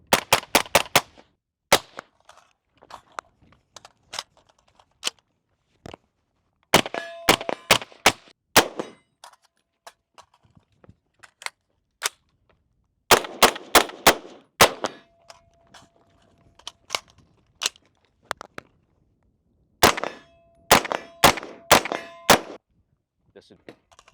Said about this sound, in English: we just got done shooting these 3 guns here